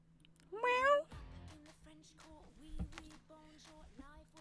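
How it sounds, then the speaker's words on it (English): A cat lets out one loud, drawn-out meow close by. Softer mews and a person's voice follow against a steady hum. "Cat!"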